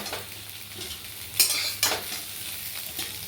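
Fried soybean pieces stirred and scooped from a hot pan of oil, with soft sizzling and two sharp scraping lifts of a spatula, near and without talk.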